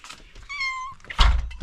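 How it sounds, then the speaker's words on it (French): A young pet kitten gives one clear, close meow lasting about half a second, followed by a louder thump or handling noise. "notre petit chat. Qu'est-ce qu'il est mignon."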